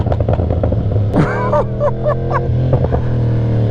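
A Yamaha R1M with a crossplane engine rides at night, its engine note rumbling loud and close with a few quick rising revs and pitch sweeps over a constant low drone, wind noise underneath.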